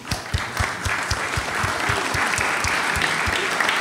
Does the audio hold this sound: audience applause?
yes